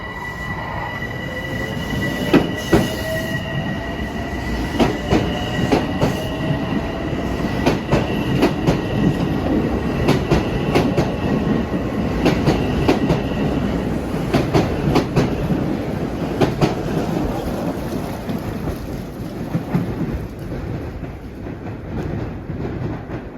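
Metro North train pulling out of North White Plains station, a loud, close rumble with repeated wheel clacks over rail joints and a high wheel squeal, steady for the whole stretch.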